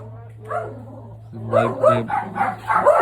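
A dog barks repeatedly nearby in short yapping bursts, mixed with a neighbour's singing voice, during work on an antique oak sideboard restoration.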